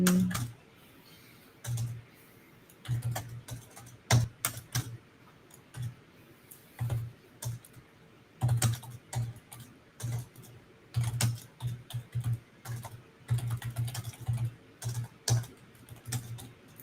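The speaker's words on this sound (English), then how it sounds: "What are you typing over there?" Rapid, uneven keystrokes on a computer keyboard, close by, coming in short bursts and pauses with a few louder clacks standing out over a quiet room.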